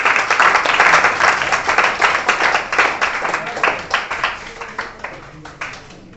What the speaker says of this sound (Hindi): तो चांदनी कुमारी के लिए एक बार जोरदार ताली होना चाहिए।